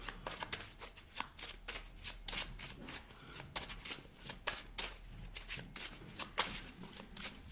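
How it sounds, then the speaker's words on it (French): A tarot card deck being shuffled up close: a steady run of quick papery riffles and flicks lasting several seconds, with no talking. "Je remélange le jeu pour vous."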